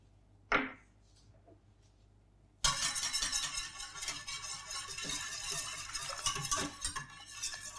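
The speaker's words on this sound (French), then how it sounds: "on utilise toujours un fouet, c'est plus simple pour mélanger les ingrédients" Milk, cream and milk powder whisked together by hand in a bowl for dark chocolate ice cream, a brief clink and then a steady, close, busy scraping and rattling of the whisk that continues without speech.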